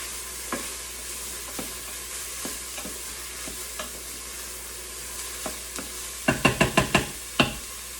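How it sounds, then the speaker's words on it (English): A spoon stirs onions cooking in a soup pot over a soft steady sizzle, with occasional scrapes and then a quick burst of clacking strokes against the pot near the end. "I'm going to give the onions a stir"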